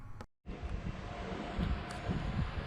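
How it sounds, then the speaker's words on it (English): A steady electric fan whirs with an even, airy hum throughout, quiet and constant after a brief dropout near the start. "I'm sorry about the fan noise in the background"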